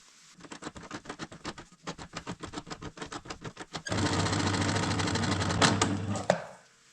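Sewing machine stitching fabric in a log cabin, first a quick run of rhythmic clacking stitches, then a steady, faster whirring burst that ends with a clunk.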